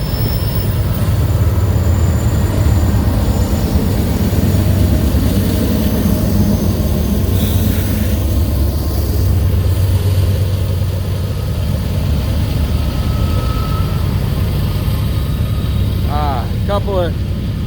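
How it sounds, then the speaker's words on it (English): A freight train with in-train DPU locomotives labours up a hill, a loud continuous rumble of engines and rolling cars close by, with a brief squeal of wheels near the end. "Couple of in-train DPUs, and they're working hard, man. Working hard trying to get up that hill."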